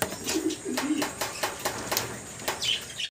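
Blackless satin fancy pigeons coo softly in a series of short, repeated calls with occasional wing flutters, while someone talks nearby over them.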